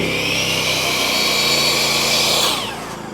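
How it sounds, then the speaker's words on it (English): Electric saw powered by a NOVUS portable gas generator, a loud, close, steady whine under load that cuts off near the end as the motor winds down. "So test number 2 is I'm going to hook up my saw to the generator."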